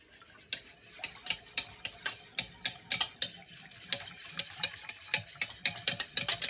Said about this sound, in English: Mix the white ingredients together until combined.